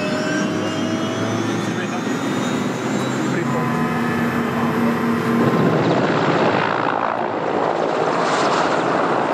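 A helicopter in flight, carrying a motorboat on a 200-kilometre trip, roars loud and close with a steady rotor and engine drone, its tone shifting partway as it flies on.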